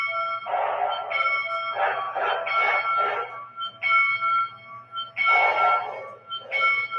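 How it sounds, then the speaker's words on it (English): Bell of an MTH model K4 steam locomotive rings in rapid repeated strokes, bright and metallic with sustained overtones, fairly close and steady through the clip with a faint low hum beneath. "So we get the bell going."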